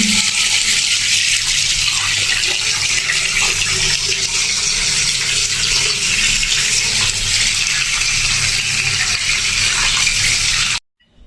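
Tap water gushes steadily while freshly cut fish is washed in a kitchen, a loud continuous broadband rush lasting about eleven seconds before it cuts off abruptly.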